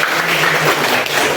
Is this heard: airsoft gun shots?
no